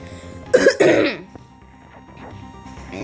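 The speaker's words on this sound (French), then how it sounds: "Je suis désolée pour cette toux inhabituelle d'ailleurs" A woman gives two sharp, rough coughs close to the mic, followed by quieter background sounds.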